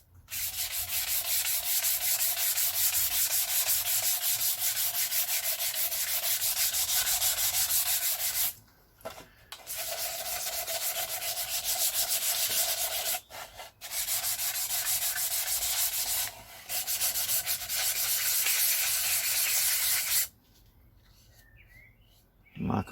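Steady abrasive sanding scrubs the lacquer top coat off a car wing mirror, loud and continuous, with a few short pauses and quiet gaps, then stopping near the end.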